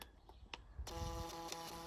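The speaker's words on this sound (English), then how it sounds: "it has a printer" A TOPDON BT300P car battery tester's built-in printer runs a test printout: after a couple of faint clicks, a steady whirring thermal-printer feed with rapid regular ticking starts about halfway through and continues close and clear, with no voices.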